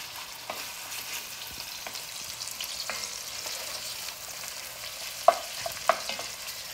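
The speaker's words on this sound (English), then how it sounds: "you let the meat, you sear it like on every side" Beef searing in a pan for boeuf bourguignon, a soft steady sizzle close by with occasional utensil scrapes and a couple of sharper clacks near the end, no talk.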